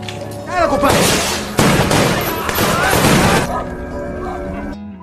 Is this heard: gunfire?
yes